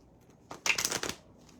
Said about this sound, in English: I'm going to shuffle the cards one more time.